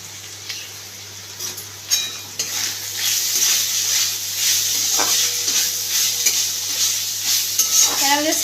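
Chicken stuffing with chaat masala being stirred in a pan for egg chicken rolls: steady close sizzling and hiss with scraping spatula strokes and light clinks of cookware, continuous throughout, with no talk.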